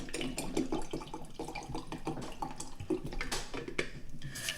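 A black tea rinse is dumped out, a soft trickling splash of liquid with light drips and faint clinks of teaware, fairly close and quiet, with no talk.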